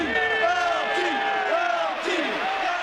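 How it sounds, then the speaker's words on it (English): A stadium crowd at the Meadowlands chants for Lawrence Taylor, the New York Giants linebacker. The massed voices swell in a loud, steady, rhythmic chant that fills the whole stretch. "a Meadowlands chant exalting New York's greatest football hero"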